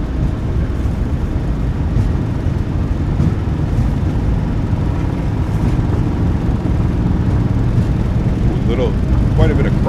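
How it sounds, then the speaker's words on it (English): Boeing 737-800 jet engines at takeoff power in a flight simulator, a loud steady broadband roar that holds constant throughout, with faint tonal chirps near the end. "Takeoff power is set. We're rolling."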